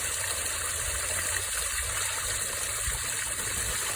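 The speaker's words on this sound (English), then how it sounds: "Love the sound of the water." Water from an Aquascape pump running about 2,400 gallons per hour flows through a natural plant filter, making a steady, continuous trickle and splash that stays level and close throughout, with no talking.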